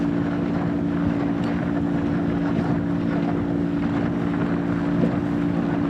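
Powerboat engine droning steadily at about 20 knots during a powerboat training run, a constant loud hum with wind buffeting and water rush throughout, no voices.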